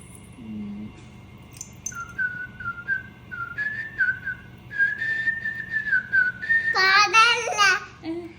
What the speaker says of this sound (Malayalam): ഞാൻ എന്നാ ചൂളം കൂട്ടാം, നീ കണ്ടുപിടിക്കോ?